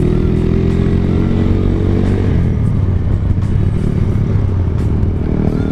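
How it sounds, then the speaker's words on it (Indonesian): A motorcycle passes close on the road during a group touring ride, its engine rattling loudly with a clattering, revving note that holds steady without easing off. "Waduh, roh, ada motor."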